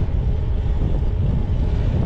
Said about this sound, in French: vent de face, un vent qui arrive de la mer